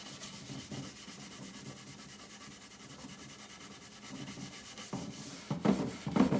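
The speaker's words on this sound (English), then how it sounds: "now you can just kind of squeeze a little bit on and then start rubbing" Chemical stripper is rubbed across a wooden furniture top in steady back-and-forth scrubbing strokes, a close, even rasp that grows louder and rougher toward the end.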